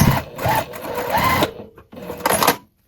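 A sewing machine stitches the seam of a crossbody bag, running loud and close in two bursts with a short pause between them, and no talk over it.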